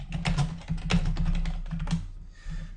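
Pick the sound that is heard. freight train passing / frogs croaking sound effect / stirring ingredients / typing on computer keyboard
typing on computer keyboard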